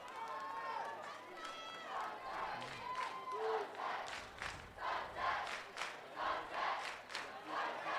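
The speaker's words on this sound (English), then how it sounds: "Crowd right below us chanting sunset" A crowd in the stands at a boys high school lacrosse championship, Sunset versus Oregon Episcopal School, chants in a rhythmic, repeated pulse heard from nearby, mixed with cheering and a play-by-play announcer talking over it.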